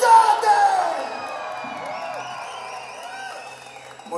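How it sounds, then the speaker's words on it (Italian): Concert audience at an outdoor festival performance letting out shouts and whoops together, a loud burst of yelling that fades into scattered cries and cheering. "per espandere meglio fate almeno un urlo per esorcizzare"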